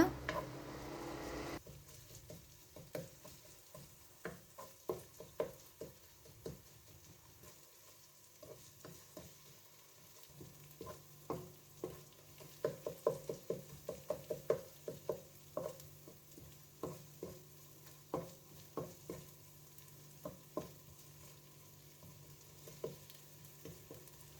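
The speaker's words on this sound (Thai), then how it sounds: "แล้วเราค่อยมาตามด้วย สามเกลอ ผัดให้หอมดีนะคะ" Garlic, coriander root and pepper aromatics stir-fried in a wok produce a soft, continuous sizzle punctuated by many quick scraping and tapping strokes of the spatula, irregular and close, without talk.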